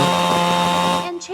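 A chainsaw cutting on forest land during crew work to restore and protect the land: a loud, steady buzzing engine whine runs for about a second, then drops away as a brief voice follows.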